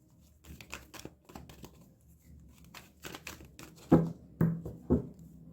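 Tarot cards being shuffled by hand, heard close and quiet as a run of soft papery taps and riffles, with a few sharper slaps of the deck near the end and no talking.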